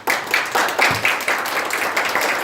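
A crowd at a golf championship press conference in a Seoul hotel function room claps steadily and enthusiastically throughout, a dense wash of applause with no break.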